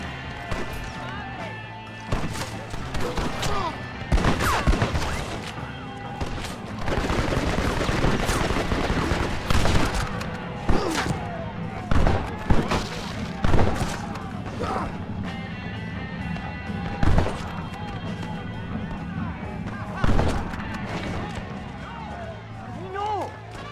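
Gunshots from the video game Red Dead Redemption ring out repeatedly as sharp, loud separate cracks spread over a long stretch, mixed with shouting voices and action sounds.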